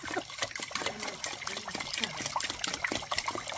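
Water is poured out in a forest camp setting, a continuous gushing, splashing flow with irregular bursts throughout, fairly close and moderately loud.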